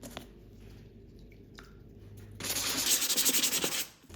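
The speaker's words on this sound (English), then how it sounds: "I think it's worth the effort since I have so many more of these to sand." Porcelain pendants being sanded by hand: quiet rubbing at first, then a louder stretch of rapid, rhythmic scraping strokes near the end.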